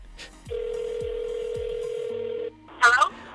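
A telephone call goes out: a short tone, then a steady ringback tone with soft clicks for about two seconds, a few lower connection tones, and finally a brief voice as the line picks up.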